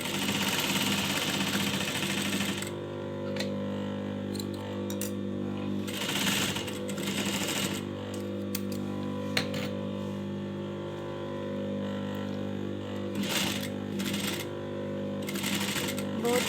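A sewing machine stitches gota lace onto a sharara with a steady mechanical whir, speeding up and slowing in bursts, with brief pauses between runs and a low hum underneath.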